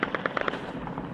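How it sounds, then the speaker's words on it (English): Rapid bursts of gunfire from a clip filmed in Syria, several sharp shots in quick succession early on that thin into fainter, scattered pops, with no talking over them. "Look at all that gunfire that's going around."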